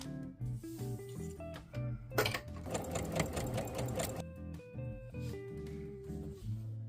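A domestic sewing machine runs a straight stitch in bursts, its motor whirring and needle chattering rapidly, loud and close, with a brief faster run in the middle before slowing and stopping.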